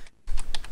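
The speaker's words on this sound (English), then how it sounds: "Are you typing KJJJJ?" Keys clack on a Commodore 64 keyboard in a short burst of four or five quick, close taps after a brief pause.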